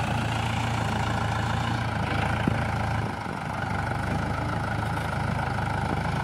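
A tractor engine idles steadily nearby, a continuous low rumbling drone with constant level and no revving, running alone without voices.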